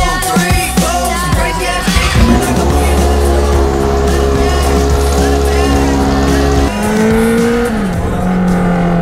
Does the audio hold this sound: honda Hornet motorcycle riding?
yes